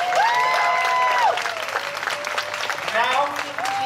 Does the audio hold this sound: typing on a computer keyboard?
no